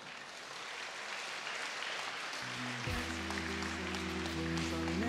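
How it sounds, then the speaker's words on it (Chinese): An audience claps steadily to welcome a choir at a choral exchange concert, a broad wash of applause, with sustained musical tones entering partway through. "让我们掌声欢迎。"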